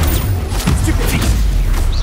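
A Stupefy spell cast during combat in Hogwarts Legacy lands as a dense, booming magical burst with rumbling low impact and crackling, shimmering tails that continue steadily through the moment.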